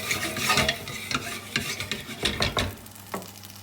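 A utensil scrapes spiced turkey out of a pan in a busy run of strokes, with rough scraping and light clatter against the pan, close and fairly loud.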